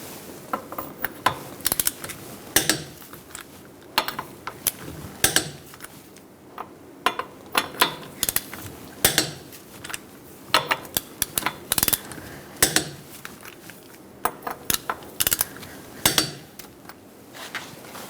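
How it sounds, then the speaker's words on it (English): Clanking and clicking metal sounds come in irregular, sharp bursts over several seconds while a 21mm socket tightens lug nuts on a 2002-2006 Toyota Camry 2.4L four-cylinder, close up with no talk. "Using a 21mm socket, we're going to torque our lug nuts to 76 foot-pounds."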